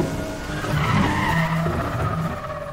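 Tires squeal as a car skids and drifts in the racing video game NFS The Run, a sustained screech over a roaring engine, loud and close with wavering pitch.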